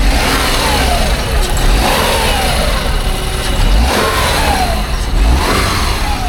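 A 2002 Subaru Lancaster with automatic transmission runs at a budget car market, its engine idling and then revving up and settling back several times, loud and close.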